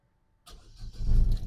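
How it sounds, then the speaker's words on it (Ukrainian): A 2008 Opel Vectra C engine cranks and catches after a moment of silence, rising into a low rumbling idle close by. "І так, розглянемо роботу двигуна."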